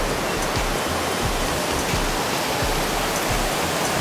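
A mountain creek draining from Pamelia Lake in a forested basin gives a constant, even hiss of rushing water, moderately quiet and heard alone.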